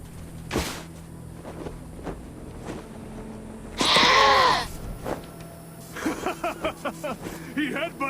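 A goat in the video game Wasteland 2 lets out one loud, wavering bleat in the middle. Quiet game ambience and a few scattered clicks and thuds come before and after it.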